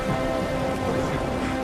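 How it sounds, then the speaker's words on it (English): Heavy pouring rain hisses as a dense, steady wash of droplets, loud and close, with no voices over it. "They drove through the pouring rain to the spot mentioned on the phone"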